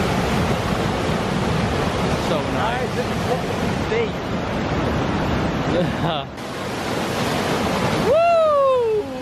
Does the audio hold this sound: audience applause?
no